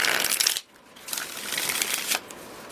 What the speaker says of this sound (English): Give me one more shuffle with clear messages